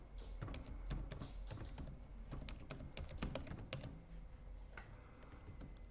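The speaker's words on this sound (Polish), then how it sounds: "Wpiszę sobie teraz nazwę testową." Keys clatter on a computer keyboard as a meeting name is typed into a video-call app, a steady run of close, crisp taps with short pauses and no talk.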